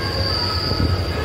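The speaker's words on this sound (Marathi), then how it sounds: "तर ट्रेनने खूप जास्तच रफ्तार पकडली आहे" A Mumbai local train running at high speed gives a loud, steady rumble with a sustained high-pitched wheel squeal over it, heard from inside the moving carriage.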